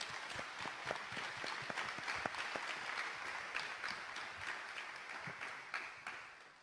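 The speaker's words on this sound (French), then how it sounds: "vous applaudissiez très fort les 2 personnes qui sont là" Audience in a hall applauding the two organizers of an event presentation: a faint, continuous wash of many hands clapping with scattered sharper individual claps throughout, no speech over it.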